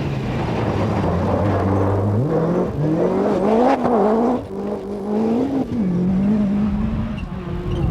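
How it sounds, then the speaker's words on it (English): A Ford Focus rally car, driven hard by ex-British rallycross champion Dermot Carnegie at the 2001 Punchestown Rally Masters, revs loud and close, its engine note climbing and dropping through repeated gear changes without a break. "the ex-British rallycross champion Dermot Carnegie puts his focus through its paces"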